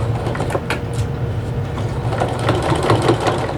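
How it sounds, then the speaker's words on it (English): A domestic home sewing machine stitching through fabric for a beach tote bag, a fast, steady mechanical whirring with a low motor hum and rapid needle clatter, close and continuous with no talk. "you're going to be sewing on a domestic machine like this, a home sewing machine."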